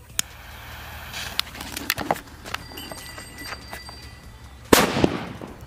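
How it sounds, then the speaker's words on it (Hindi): A Saddam sutli bomb firecracker goes off inside a hole with one sharp, loud bang near the end, after a few seconds of faint crackling pops, small snaps and outdoor background noise. "अब जला दे इस वाले सद्दाम के सूतली बम को देखते हैं ये कितना यहाँ पर धमाका करता है"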